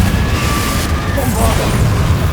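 Explosive blasting spell in Hogwarts Legacy, booming amid continuous loud combat noise with dense low rumble throughout, a brief bright burst near the middle, no clear separate impacts.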